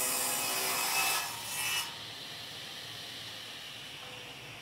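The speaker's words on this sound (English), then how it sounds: "And back to the table saw to cut it to the width that he needs." A table saw rips a wood plank to width at a sawmill, a bright, hissing cutting rush lasting about two seconds that then drops to a low steady motor hum, with no talking.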